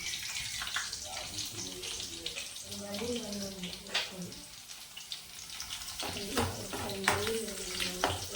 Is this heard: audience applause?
no